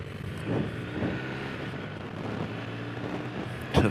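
BMW R1250R Sport motorcycle riding slowly on a country road in February, a steady low engine drone with rushing wind noise, close and continuous, with a sharp bump near the end.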